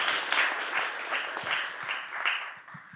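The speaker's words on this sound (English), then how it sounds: "So everybody, please give Jonathan a warm round of applause" Audience applause at an e-commerce talk fills the room, a steady wash of many hands clapping at moderate volume throughout.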